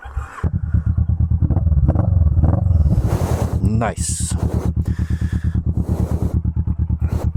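A Kawasaki Vulcan S motorcycle with a deep, throaty Delkevic aftermarket exhaust revs and accelerates loudly, its rapid pulsing firing rhythm close by; a voice speaks briefly.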